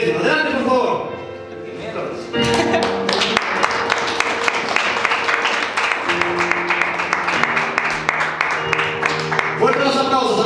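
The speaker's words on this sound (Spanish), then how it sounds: "Fuertes los aplausos, por favor, que se escuchen" Audience applause at a Spanish-language event as guests are invited forward, a dense patter of clapping sustained under music with a voice over the speakers at the start and end.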